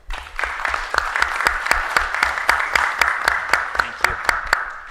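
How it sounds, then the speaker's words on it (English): Audience at the EGI 2023 conference applauds for several seconds, with a steady wash of clapping and a few sharp, distinct claps standing out near the microphone. "So a round of applause for them, please."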